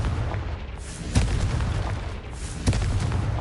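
Confringo fire spell blasts in Hogwarts Legacy land as two booming explosive bursts over a dense, rumbling wash of game noise, with no voices.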